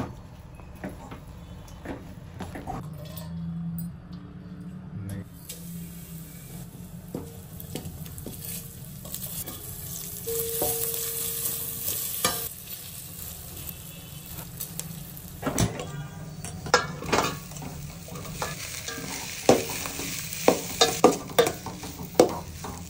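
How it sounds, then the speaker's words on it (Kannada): Ragi flour being stirred into a pot to make ragi mudde, with a steady scraping stir and a soft sizzle close by, growing busier toward the end, with no talk. "ಇದೆ ನೋಡಿ, ಹಿಟ್ಟು ಹಾಕ್ಬಿಟ್ಟು ಕಲಸೋದು."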